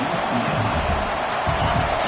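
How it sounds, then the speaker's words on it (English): A football stadium crowd roars and cheers as the defense tries to get a stop late in the second quarter, a dense continuous wall of noise from a large crowd. "this crowd coming to life here, trying to help the defense get a stop with the offense pinned back"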